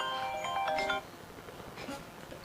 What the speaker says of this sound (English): My phone's just going off.